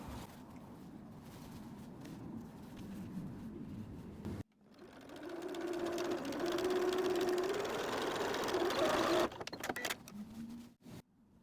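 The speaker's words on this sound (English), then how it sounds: "You can also sew up that hole right now." A sewing machine stitches the opening of a beach bag closed, its motor whirring steadily and loudly for several seconds after a quieter stretch of room noise, then stopping abruptly.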